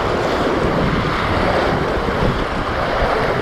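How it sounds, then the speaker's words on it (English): Mild river rapids rush and roar loudly around an inner tube on the Wairau River, a dense continuous wash of churning water close by with wind buffeting the microphone. "That was some fairly mild rapids."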